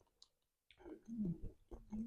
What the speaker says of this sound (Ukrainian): Жується, як наче якийсь кальмар.